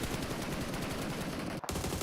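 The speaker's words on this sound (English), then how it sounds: "Just blasting the bullets out" Dense, loud automatic gunfire from the mobile battle royale game PUBG Mobile during a world cup esports match, a continuous burst of rapid shots that cuts out briefly near the end.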